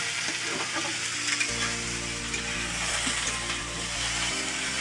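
Continuous close sizzling of bitter gourd frying in a pan, with a low steady hum underneath and occasional scraping.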